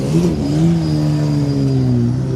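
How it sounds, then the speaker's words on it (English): MG Cup race cars pull away from the starting grid together, engines revving loudly and rising in pitch, a dense layered roar with overlapping engine notes. "as they pull away, you can hear all the different engine notes"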